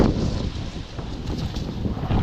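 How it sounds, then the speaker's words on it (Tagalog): Strong wind buffets the microphone in a constant low roar with gusty surges, no voices present. "malakas ang hangin dito"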